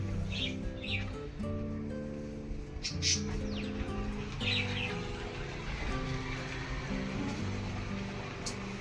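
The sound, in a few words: birds chirping on balcony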